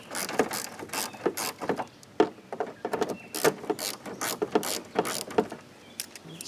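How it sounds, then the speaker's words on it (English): A hand ratchet tightens the bolts of a car headlight during installation, producing rapid, irregular bursts of sharp metallic clicks close by. "Might as well start them by hand since I've got the ratchet."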